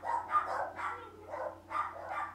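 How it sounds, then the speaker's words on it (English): Dogs bark in the background during gameplay, a series of about five muffled, moderately distant barks in an uneven rhythm over a low steady hum. "Dogs won't shut up."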